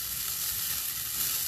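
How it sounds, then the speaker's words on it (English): Diced leftovers sauté in a hot pan, giving a steady, close hiss of sizzling oil that holds even throughout without a break. "All you have to do is add it to your pan and let it start cooking."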